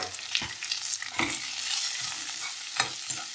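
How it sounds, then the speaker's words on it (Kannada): Onions fry steadily in a pan, a continuous crackling sizzle broken by a few sharp scrapes of stirring, close and moderately loud with no voices. "ಚೆನ್ನಾಗಿ ಹುರ್ಕೊಳ್ಳೋದು, ಚೆನ್ನಾಗಿ ಫ್ರೈ ಮಾಡಿ"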